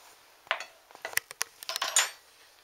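Metal spoon clinking and scraping against a bowl while oils are spooned for homemade incense, a scattered run of light, bright taps and clatters, close and fairly quiet, with no talking.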